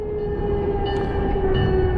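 A train passes nearby along the Delaware River, its horn sounding a loud, sustained chord over the heavy rumble of the rail cars.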